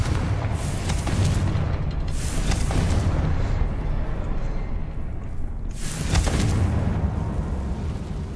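A Confringo blasting spell goes off in Hogwarts Legacy, a deep booming explosion with rumbling low end, followed by a second burst near the end, loud and continuous over game ambience.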